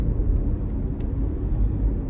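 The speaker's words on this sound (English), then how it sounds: "Big old truck." A big truck rolls past close by, a steady loud low rumble of engine and road noise filling the whole stretch without any talk.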